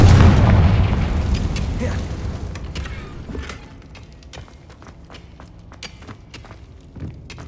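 A Confringo fire spell blasting in the Hogwarts Legacy game, a loud booming explosion at the start that rumbles and decays over a few seconds, followed by scattered footsteps and small debris clatter.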